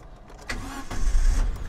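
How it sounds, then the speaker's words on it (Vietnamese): A 2022 Tera 100 light truck's engine cranks and fires up, a brief starter whir giving way to a low, steady idle rumble that rises in level over under two seconds, close to the microphone with no talking. "đây tôi sẽ nổ máy lên cho các bạn"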